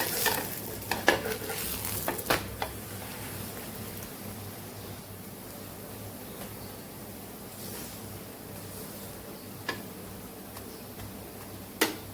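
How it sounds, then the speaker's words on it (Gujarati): A paratha roasts with ghee on a griddle, giving a soft, low sizzle with occasional sharp clicks and scrapes, mostly in the first few seconds and again near the end, with no talk. "બે સાઈડ સરસ અલટ પલટ કરી અને શેકી લેવાનું છે"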